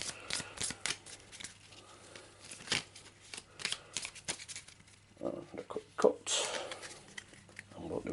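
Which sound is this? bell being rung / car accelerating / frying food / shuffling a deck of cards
shuffling a deck of cards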